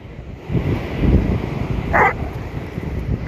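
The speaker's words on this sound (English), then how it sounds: "Beautiful dog." A Great Dane barks a few times at an ocean beach dog beach, with the barks set against steady wind and surf noise.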